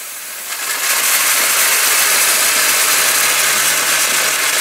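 An Orpat blender grinds lentils into a fine powder, its motor kicking in after a brief pause and then holding a loud, steady whirring roar to the end, with no talking.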